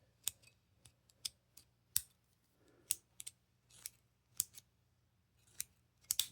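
An aluminum bolt action pen cycles repeatedly, each stroke giving a sharp, close scraping click in an irregular series of a dozen or so quick snaps with quiet between them.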